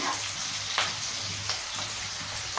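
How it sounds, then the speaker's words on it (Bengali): Onions fry in oil over a medium flame for Mumbai-style pav bhaji, a dense continuous crackling sizzle with a few soft stirring strokes, close up and without voices. "পেঁয়াজগুলো হালকা ব্রাউন হওয়া অবধি আমরা ভেজে নেব"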